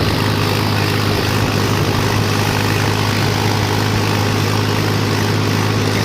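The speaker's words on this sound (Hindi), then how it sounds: "इस बार रिक्स लेकर चढ़ा रहा हूँ, लहर में तो ले रहा ट्रैक्टर, लेकिन आवाज सुनो।" A tractor engine climbs a slope in top gear at over 2000 rpm in rainy conditions, giving a loud, steady, strained drone throughout with no pauses.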